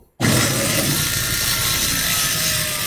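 A table saw with a cross cut sled cuts wood, the blade whining in loudly after a brief silence and holding a steady, close sawing roar.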